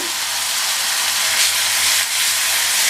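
Small onions sauté in hot oil with curry leaves for a Tamil plantain kara kuzhambu. A steady, close sizzle hisses without a break.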